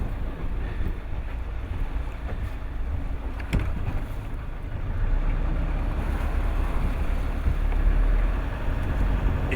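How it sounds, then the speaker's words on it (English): A boat motoring along the west coast of Ireland with its engine running in gear after a restart, a steady low rumble mixed with wind buffeting and water wash, no talking. "And the engines have started."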